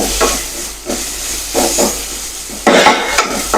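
Buttermilk is poured into a hot pan of spiced vegetable curry, giving a loud hissing sizzle that rises in surges, with a strong burst of steam near the end.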